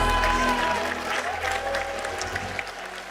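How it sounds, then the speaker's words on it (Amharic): A church congregation clapping together, a loud sustained wash of applause with a voice and instruments underneath. "አጨብጭቡ ለጌታ ክብር።"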